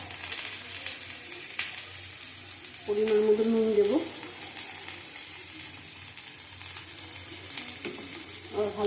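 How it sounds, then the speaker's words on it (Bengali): Potatoes, tomato and green chilies frying in a pan for a potato curry, a steady broadband sizzle throughout with a brief louder tonal clatter near the middle, while someone speaks briefly over it. "দুটো কাঁচা লঙ্কা দেবো, কেটে দেবো, ভালো করে ভেজে নেবো।"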